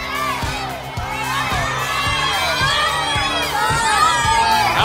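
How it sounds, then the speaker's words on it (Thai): Children and a crowd cheer and shout loudly and continuously at a taekwondo high kick and spinning kick demonstration, with rhythmic thumps of kicks landing roughly every half second beneath the noise. "เสียงเชียร์ล่ะ"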